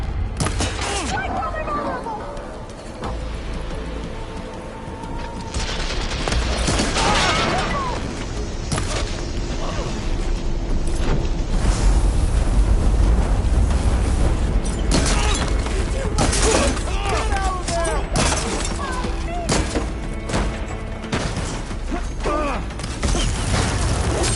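Gunfire from soldiers in Horizon, loud bursts and booms with mechanical clatter running throughout, mixed with music and voices in a dense game battle.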